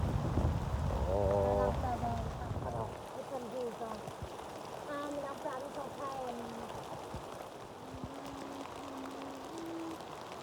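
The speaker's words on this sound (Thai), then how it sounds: "ฝนตก" Steady rain hisses across a farm field in the morning, a soft, even wash with voices talking over it at the start and a few quieter voices drifting through.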